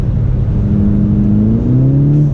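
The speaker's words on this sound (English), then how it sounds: "a higher gear and just floor it, and then you can see the clutch just slips." Engine of a VW GTI MK6 with a slipping clutch, a loud, close, sustained drone whose pitch climbs steadily as the engine revs while it is floored in a higher gear.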